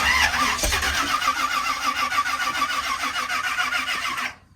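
A car engine at a speedway on a wet day cranks with a short starter whir, catches and runs with a rough, throbbing exhaust idle, then cuts out abruptly as the engine dies.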